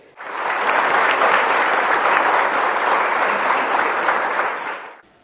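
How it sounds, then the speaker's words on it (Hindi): Loud, sustained applause from a school audience welcoming a panel at a discussion on higher education, a dense wall of clapping that swells in, holds steady for about five seconds and stops abruptly. "इस पैनल का आप लोग एक बार जोरदार ताली बजा के स्वागत करें"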